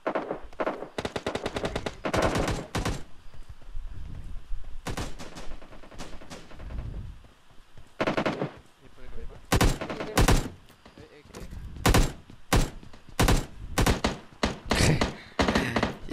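Dense gunfire from all directions in a PUBG Mobile match, rapid automatic bursts and single shots crackling near and far in repeated clusters, with brief pauses between volleys and occasional voices underneath.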